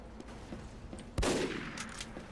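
A single sharp sniper rifle shot in Team Fortress 2 cracks out midway, followed by a brief ringing tail over quiet game ambience.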